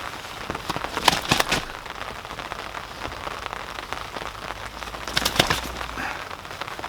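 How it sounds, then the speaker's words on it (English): Steady rain falling on surfaces outdoors during carp fishing, a constant patter with brief louder bursts of drops. "it's still raining, and I'm still getting soaked"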